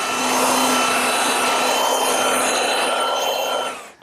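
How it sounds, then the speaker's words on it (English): Wooden panels are hand-sanded after excess glue is scraped off, giving a loud, continuous abrasive rasp that runs steadily for several seconds before stopping with a small knock, close up and with no talking. "scrape off the excess glue and lightly sand both sides"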